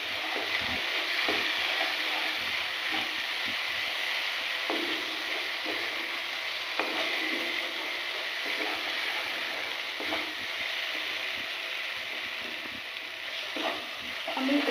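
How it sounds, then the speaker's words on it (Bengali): Spice paste fries in oil for a vegetarian Kashmiri dum aloo, a steady, close sizzle with occasional stirring scrapes and light ticks, continuous throughout. "মশলাটা থেকে দেখো তেল ছাড়তে শুরু করে দিয়েছে"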